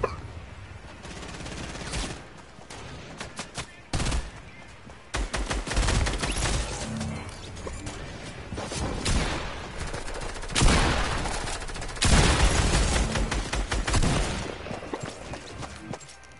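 Gunfire rattles through a video game shooter in dense bursts and automatic volleys. It goes on almost without a break and grows louder toward the end, with only faint traces of voices.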